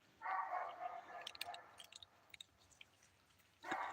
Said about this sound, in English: I hear my neighbor's dog. Sounds like he's right back here.